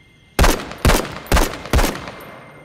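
Four loud, sharp gunshots from a weapon in the VR game The Walking Dead: Saints & Sinners ring out alone at a steady pace, each with a short decaying tail.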